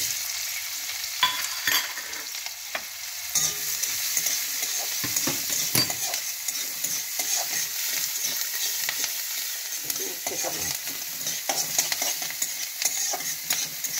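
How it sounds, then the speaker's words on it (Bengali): Onion, ginger and garlic fry in ghee and butter in a pan, a steady bright sizzle with frequent scraping and stirring clicks, heard up close and continuous with no talking. "এবার আদা রসুন পেঁয়াজটাকে ভালো করে ফ্রাই করে নিচ্ছি ঘি আর বাটারের মধ্যে।"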